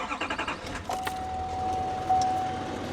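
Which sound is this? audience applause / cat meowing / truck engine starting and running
truck engine starting and running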